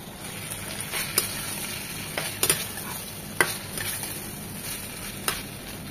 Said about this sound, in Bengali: মশলার সাথে ভালোভাবে নেড়ে চেড়ে মিশিয়ে নেব।